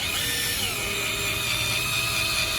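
Steady high whine of a power drill buffing a car headlight with Mothers PowerPlastic polish, continuous and close with no pauses, and no talking.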